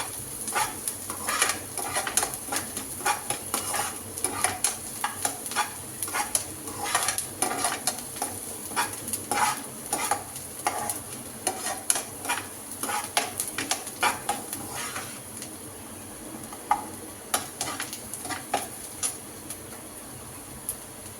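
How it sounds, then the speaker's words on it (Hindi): Onions cook in a pan for a simple pasta dish while a spoon stirs them, making repeated metallic scrapes and clinks over a soft, steady sizzle, close by and without voices, easing to sparser stirring near the end. "प्याज को अच्छे से पका लेंगे ताकि इसके अंदर बिल्कुल भी कच्चापन ना रहे।"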